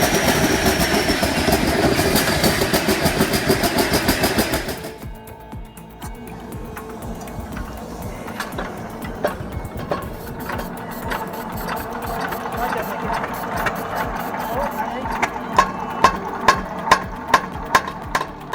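An old marine engine built for warships and workboats fires up after a loud steady roar, then settles into a rapid mechanical clatter with sharp knocking beats, close and loud.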